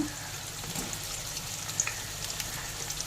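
Pointed gourd, potato, eggplant and onion frying in a pan with lote fish, a soft, faint, continuous sizzle with a few small crackles and stirring clinks.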